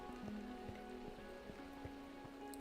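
Steady rain falling in Minecraft at sunrise, a continuous soft patter of drops with a low looping tone running underneath, even and unbroken throughout.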